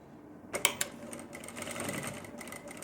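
A sewing machine stitches a suit kurti at medium stitch length, running steadily and faintly after a few sharp clicks near the start.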